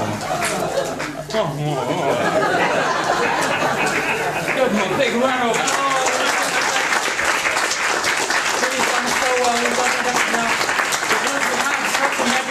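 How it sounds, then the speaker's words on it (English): Loud, lively applause from an audience at a magic show, mixed with chatter and laughter, continuous for the whole stretch after a brief quieter opening. "big round of applause"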